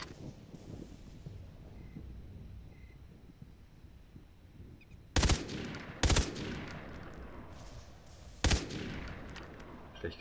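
Gunfire in Far Cry 3 Blood Dragon: three sharp, loud shots at irregular intervals, each followed by a brief decay, cutting through a steady low rumble of wind and ambient game noise.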